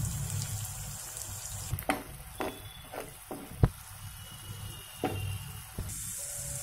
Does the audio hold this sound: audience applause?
no